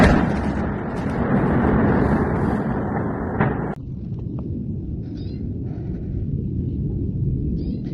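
Explosions from a late-night Israeli attack on Lebanon: a loud, sustained roaring rumble that cuts off abruptly partway through, then continues as a lower, steady rumble.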